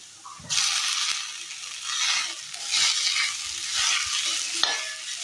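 A curry mixture with crushed gooseberry is stirred in a hot pan for a Kerala recipe, a steady sizzle with rhythmic scraping sweeps that swell and ease, close and fairly loud, no talk.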